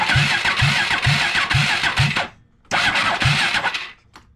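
Polaris 6X6 500 ATV engine cranking after a starter repair, with rhythmic starter chugs building into a brief catch, then a pause and a second burst of cranking that fades out, all close by.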